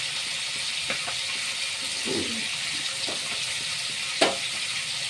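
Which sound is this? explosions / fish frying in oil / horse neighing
fish frying in oil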